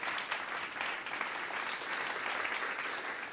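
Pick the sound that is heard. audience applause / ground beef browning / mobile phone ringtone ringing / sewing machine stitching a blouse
audience applause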